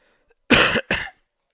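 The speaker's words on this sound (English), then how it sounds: "Excuse my annoying cough." Two quick coughs in a row from a man playing Super Metroid, close and loud, the second shorter than the first, with silence before and after.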